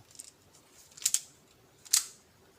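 A few sharp plastic clicks, quiet and close, come in small bursts with pauses between, like a puzzle's layers being twisted.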